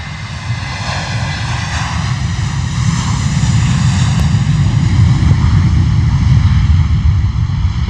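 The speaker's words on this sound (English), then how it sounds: "Lovely rumble there from that 321." A Wizz Air A321 jet rolls on takeoff at a wet, windy London Luton Airport, its engines giving a loud, sustained roar and low rumble that swells gradually, heard from a distance with wind buffeting the microphone.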